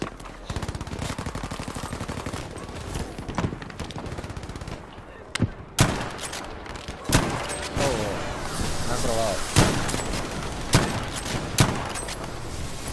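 Battlefield V gameplay gunfire, with sustained automatic rifle bursts and sharp single shots, some loud and close, others further off, under excited talk from players.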